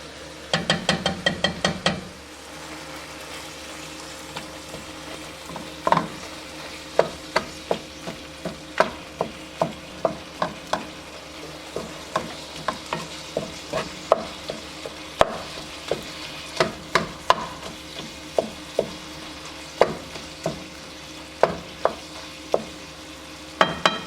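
Meat browns in a pan under a steady low sizzle while sauce is mixed nearby, with a brisk clatter of spoon strikes at the start followed by irregular sharp clinks and taps of a utensil against a bowl.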